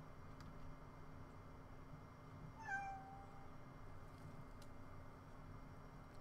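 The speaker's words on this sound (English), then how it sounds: "one of my cats has decided to actually come by and say hello" A house cat meows once, a short rising call heard faintly against a steady background hiss, with no one talking over it.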